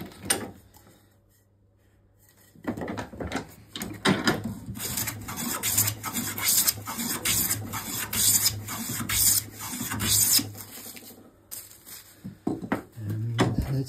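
Hand tool scraping and rasping across sawn wood faces while preparing footstool stock, a run of irregular strokes and knocks in the workshop after a short quiet opening.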